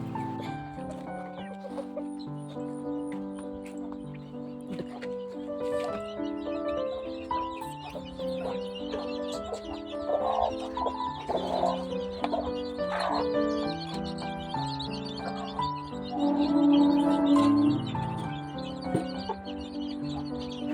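An aggressive mother hen guarding her chicks on a farm in Kannur, Kerala, gives repeated low clucks in an uneven rhythm, with a few louder, sharper calls, close by against quiet background noise.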